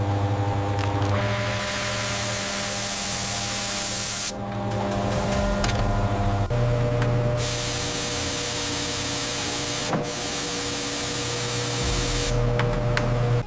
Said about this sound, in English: Our proprietary tomato sauce is applied through a precision spray lattice